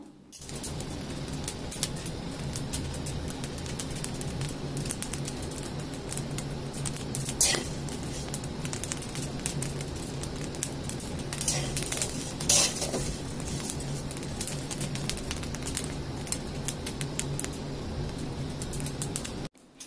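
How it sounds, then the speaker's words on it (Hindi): Steady dry crackling and sizzling of raw rice dry-roasting without oil in a hot pan, continuous throughout, with a few sharper scraping clinks of a ladle against the pan. "और यहाँ पे राइस थोड़ा थोड़ा चटकना शुरू हो गया है"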